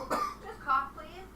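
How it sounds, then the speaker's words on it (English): A cough or two during a live chat stream, a short throaty burst followed by a second weaker one, close and fairly soft. "Just cough, please."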